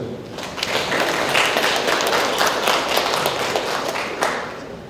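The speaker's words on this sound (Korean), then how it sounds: "박수 한번 주십시오." An audience at an academic symposium on rock inscriptions gives a round of clapping, soft and somewhat distant, a dense patter of hands that swells slightly and tapers off.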